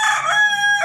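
A rooster crows, a close, loud, harmonic call held steady for under a second with no voices over it.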